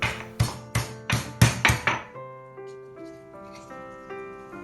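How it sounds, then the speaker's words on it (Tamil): In a Kerala kitchen, a stone pounds shallots, green chili, ginger and curry leaves in six quick, hard thuds, followed by softer clinks and a lingering metallic ring. "இது எல்லாத்தையுமே வந்து தனித்தனியாக அந்த கல் வச்சு லைட்டாக இடித்து எடுத்துக்கிறோம்"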